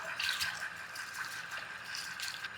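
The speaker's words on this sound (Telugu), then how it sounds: "తర్వాత దీంట్లో స్లోగా కొన్ని నీళ్ళు పోసుకోండి" Water poured slowly into whisked yogurt gives a soft, continuous trickle and splash, faint and close, with no talk.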